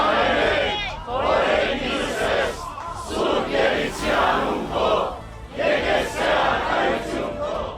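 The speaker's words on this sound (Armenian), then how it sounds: "Դատարանի շենքի մոտ հավաքված բազմաթիվ քաղաքացիներ ու հոգևորականներ ծափերով ու զորակցության վանկարկումներով են դիմավորել ամենայն հայոց կաթողիկոսին։" Outside a courthouse, a large crowd of citizens and clergy chants rhythmically in support, loud surging waves of voices repeating in a steady cadence, close and continuous.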